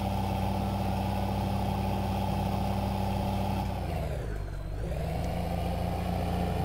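A modded tractor in Farming Simulator 15 runs with a steady, droning engine hum and a low, buzzing rumble. Near the end the pitch dips briefly, then settles back to its even tone, with no talking.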